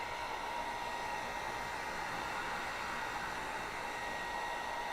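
A hair dryer blows with a steady, even rushing whir that holds at the same level throughout, close by, with no voices.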